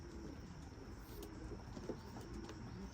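Racing pigeons in a loft give soft, low cooing. It is faint and distant under a steady background hiss, and there is no talking.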